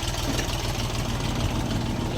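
An Orion RD-244 mini tractor on wide tyres idles steadily nearby, its small engine chugging loud and constant throughout with no voices.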